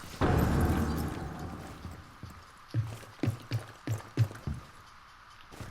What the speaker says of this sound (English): Set off breach charge for flashbang.